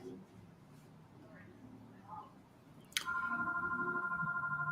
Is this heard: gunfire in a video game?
no